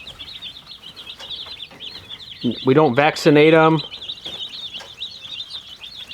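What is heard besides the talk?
one-day-old chicks peeping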